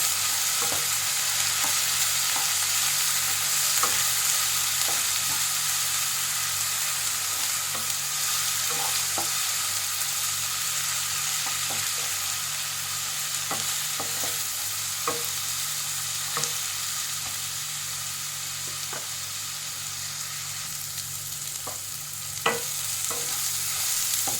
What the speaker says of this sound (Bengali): এখানে 2 চামচ আদা রসুন বাটা দিয়ে দেবো। এটাকে ভালো করে ভেজে নিতে হবে।